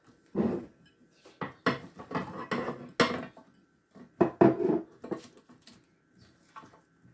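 Onions are dropped into an oven baking dish already holding salmon, vegetables and cherry tomatoes, making a run of close, soft clattering thuds in bursts separated by short pauses, with no one speaking.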